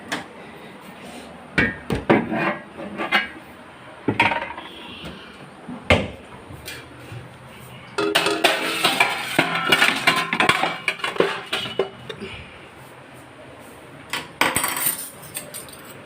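Cooking pots, a strainer and a spoon handled in a home kitchen: scattered metallic clinks, clanks and knocks of varying loudness, with a denser clattering stretch in the middle and a few sharp bangs near the end.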